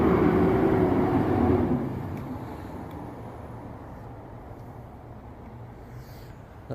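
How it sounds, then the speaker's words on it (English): A fire truck passes near a transit station without its siren: a loud, close, deep engine rumble that fades after a couple of seconds into a softer, lingering drone. "That was the fire truck that was at the transit station."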